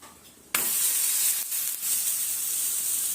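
Jowar thalipeeth hits oil on a hot griddle with a sudden loud sizzle that starts abruptly and then holds as a steady, close crackling hiss to the end.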